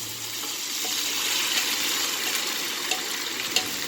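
Tofu frying in a pan for an orange Chinese tofu bowl gives a steady, dense sizzling hiss with a few faint pops, close and continuous throughout.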